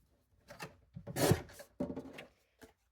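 Paper is cut for a trifold scrapbook folio, producing a few short rasping, scraping strokes close by, separated by brief pauses in an otherwise quiet room.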